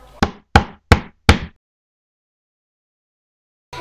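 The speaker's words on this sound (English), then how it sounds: "But then there was yet another knock at the door." Knocking at a door: four quick, crisp raps in a fast even rhythm, close and clear, followed by silence and a faint start of another sound at the end.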